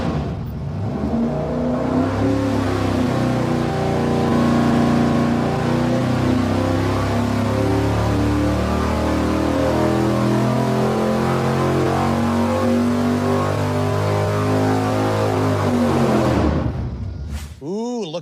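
A pushrod V8 on an engine dyno with 135-wall pushrods, roaring through a full-throttle pull as its pitch climbs steadily for about seventeen seconds, then cutting off abruptly with a brief falling whine.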